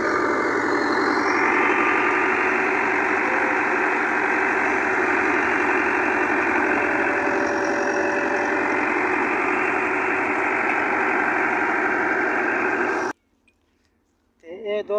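A tractor engine idles steadily and loudly near a wheat threshing site in a village, with a continuous droning hum that cuts out abruptly near the end.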